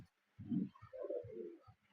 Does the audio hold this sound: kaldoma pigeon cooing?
yes